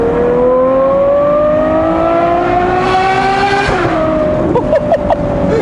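A car on a national-limit road drops gears, and its engine revs climb steadily, loud and close, then fall away sharply before a few rougher bursts of throttle.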